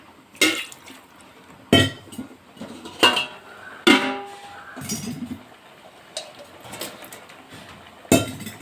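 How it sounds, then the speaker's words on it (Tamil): Raw mango is washed in a bowl: a series of loud, separate clanks and clinks of the bowl and fruit, with light water splashing and sloshing in between, close by and without any talk. "மாங்காய் இதை வாஷ் பண்ணிப்போம்"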